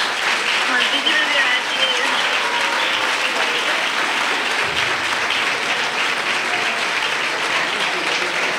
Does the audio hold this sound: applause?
yes